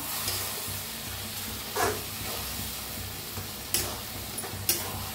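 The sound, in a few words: stirring a vegetable mixture with peanut powder in a pan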